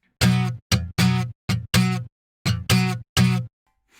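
Electric guitar rhythm, with muted upstrokes and full downstrokes in a clipped, syncopated pattern of eight sharp strums separated by brief silences, played alone and close.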